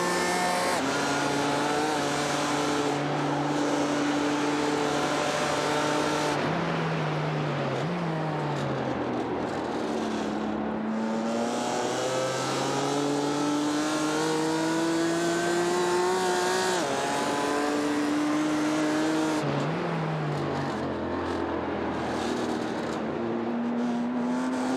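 BMW and Porsche Cayman race cars in the SP10 class of a racing video game, their engines droning loudly and revving through gear shifts as they run close together down a straight, with no talk over them.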